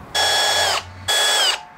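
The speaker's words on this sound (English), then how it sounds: "Here's a quick little tip as far as drilling with a hand drill into metal." A hand drill bores into metal on a 150-year-old vise during a restoration, using lubrication at low speed. Two steady, loud whining bursts are each cut off sharply, with a short pause between them and no talking.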